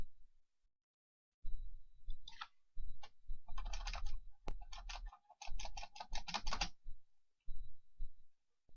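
Typing on a computer keyboard while making a digital card, close, quiet clusters of rapid key clicks separated by short pauses, with no talking.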